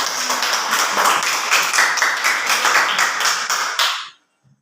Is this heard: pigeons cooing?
no